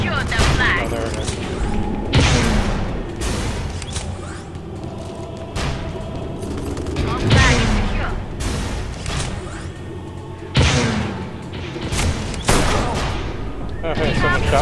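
Gunfire in the Tribes Ascend video game comes as repeated heavy shots and booming blasts scattered throughout, loud and close, while a player talks over the fighting.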